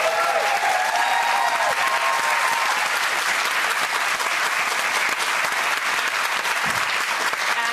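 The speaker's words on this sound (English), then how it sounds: "Another round of applause for Ray," A studio audience on a daytime television talk show claps in sustained, loud applause that stays even and dense throughout.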